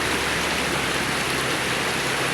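Strong running water pours steadily at a traditional farm carrot-washing spot, a loud, continuous broadband rush with no pauses throughout.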